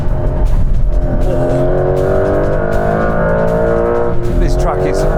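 A Porsche 911 accelerating hard off the line on a slippery track, a loud, gruff engine climbing steadily in pitch with a gear change partway, under people talking.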